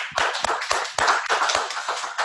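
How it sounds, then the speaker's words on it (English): Audience at a Kanienkehaka traditional council moon teaching gathering clapping, distinct uneven hand claps in a loose rhythm from a modest crowd, fairly close. "Another round of applause for them"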